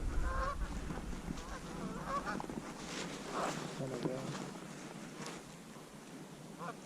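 Geese honk repeatedly over a frozen field during a goose hunt, a scattered chorus of calls at middle distance over steady wind-like rumble, with low voices talking underneath.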